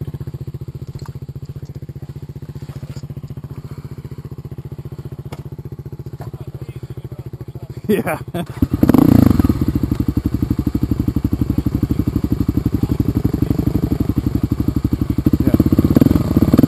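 A dirt bike engine idles steadily, then revs up loudly and settles into a throbbing, rattling run close by as a child takes a first ride, with a brief spoken word.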